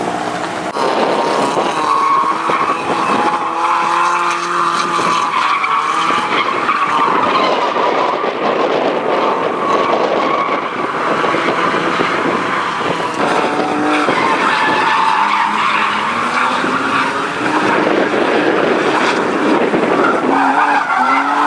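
Drift cars slide around Flat Rock Speedway during a drift day, tires skidding and squealing continuously alongside loud engine roar, a dense, sustained wall of sound with no pauses.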